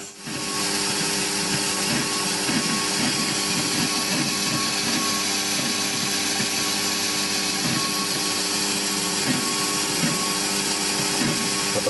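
Metal lathe taking 25 thou cutting passes on a cast engine flywheel, turning it down to 4 inches in diameter. A steady continuous machining drone with a faint rhythmic chatter runs throughout, close and alone, with no talk.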